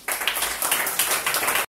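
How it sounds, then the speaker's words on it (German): A crowd claps steadily for under two seconds, a brisk, even applause that cuts off abruptly. "Okay, bitte Applaus für deine Kinder."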